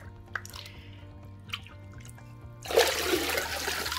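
Water pours into a bucket, starting suddenly as a loud, steady rush after a few faint drips and small sounds, close by and alone, with no talking.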